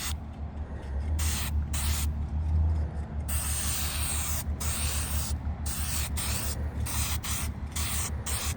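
Krylon Looking Glass Silver spray paint hisses steadily from a can onto prop parts over a black primer base, in long close bursts broken by short pauses.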